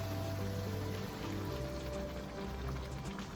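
Water being poured into a pot of Jamaican stew pork on the stove, a steady splashing, trickling pour heard close up for the full stretch with no talk over it.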